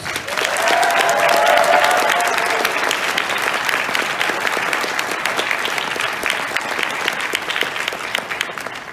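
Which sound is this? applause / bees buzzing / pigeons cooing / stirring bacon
applause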